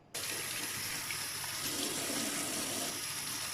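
Water gushes steadily from a tap while turmeric is rinsed off, a close, loud, continuous rush that starts abruptly and carries on without a break, with no talking.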